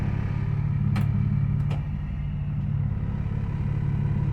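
A BMW E46 engine idles steadily after a new MAF sensor is fitted, a low even rumble running without stumbling, close by, with a couple of brief higher clicks over it and no talk.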